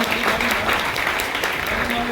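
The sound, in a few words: audience applause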